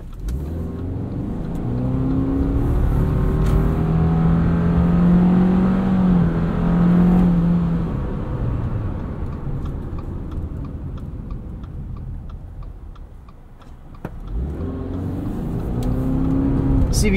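A 2022 Subaru Forester Wilderness with a CVT accelerates hard in Sport Sharp mode, a steady engine drone rising and holding before easing off, then building again, heard from inside the cabin with no talking.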